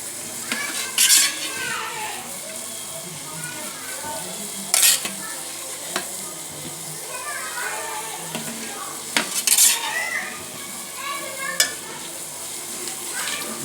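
Ghee heats in a kadhai for an egg and potato curry, giving a low steady sizzle with a few metallic clinks and scrapes from a spoon against the pan, some louder clatters standing out.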